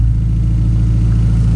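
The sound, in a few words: Genesis coupe engine revving with RFL blow-off valve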